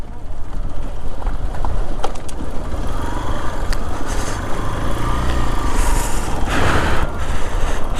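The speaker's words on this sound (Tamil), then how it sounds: "வரிசை எவ்வளோ லாரி வருது," Lorries roll past on a dusty dirt mountain road between Sarchu and Pang in Ladakh, a continuous loud rumble of engines and tyres with rising surges as trucks draw near.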